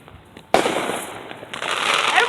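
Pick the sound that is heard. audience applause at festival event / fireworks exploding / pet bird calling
fireworks exploding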